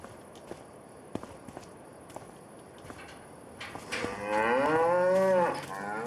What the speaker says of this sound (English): I would like to have a look at the cows and make sure they're okay.